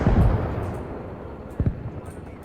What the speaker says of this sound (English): Oh wow, that's actually good rockets.